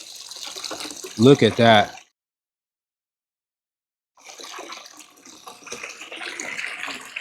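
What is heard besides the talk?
water pouring out of Jesimaik cordless pool vacuum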